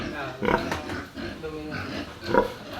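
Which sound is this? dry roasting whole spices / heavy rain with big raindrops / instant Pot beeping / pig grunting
pig grunting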